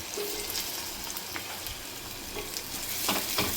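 Onions sizzle in hot oil with green chillies in a pan for a raw mango and prawn curry, a close, steady frying crackle with occasional spoon scrapes and taps, no speech.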